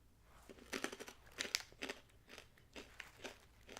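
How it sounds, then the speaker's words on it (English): Corn nut snacks being chewed, a series of sharp, close crunches in an irregular chewing rhythm, quiet and intimate with no talking. "this has a good crunch without being like jawbreaker hard kind of a situation"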